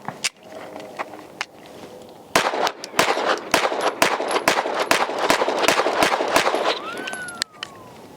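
Rapid pistol shots from a budget Glock Roland Special, a brisk string of loud, close cracks fired in quick succession, with a few spaced shots before and a mechanical whine near the end.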